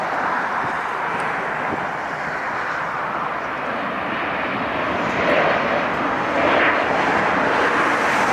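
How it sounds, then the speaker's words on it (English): A jet airliner takes off at LAX, its engines giving a steady, broad roar heard from a distance that swells slightly toward the end, with some wind noise. "We'll go ahead and let the Southwest land and we'll get this takeoff here."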